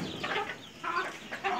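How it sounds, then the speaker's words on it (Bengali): Several chickens cluck at feeding time, three short bursts of nasal clucks close by at moderate volume, separated by brief pauses. "এখন মুরগিদেরকে আমি দিব"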